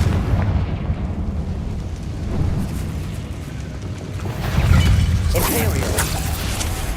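Fiery Confringo spell blasts in Hogwarts Legacy, heavy booming bursts rolling under continuous combat noise, with a louder explosive swell near the middle and brief crackling afterward; a voice talks over the fight.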